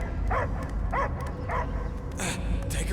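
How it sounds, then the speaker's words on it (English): Dog barking in the Guardians of the Galaxy video game, three or four sharp barks at a steady pace over a dense, rumbling game soundscape, with a higher yelp near the end. "I hear only barking."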